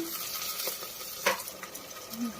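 Onion paste frying in a pan for an Indian egg curry, a soft steady sizzle with light stirring scrapes, one sharper clink of a utensil near the middle, with no talking.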